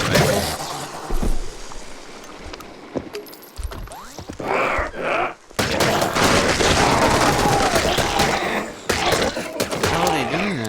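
Zombies fire assault rifles in the top-down roguelike DDoD, with dense bursts of loud, close automatic gunfire mixed with thuds and other game noise.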